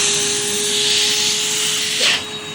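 A Rainbow vacuum cleaner blowing air out of its exhaust with a new filter fitted, a loud continuous rushing hiss with a steady motor tone underneath and a brief surge near the end.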